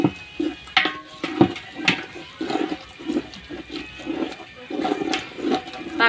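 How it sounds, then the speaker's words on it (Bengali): Water is poured into a pan of frying spices and beef, making gurgling, sloshing pulses with bubbling in between and a few sharp knocks, close and fairly loud. "অল্প একটু পানি দিব মশলাগুলো যেহেতু পুড়ে না যায়।"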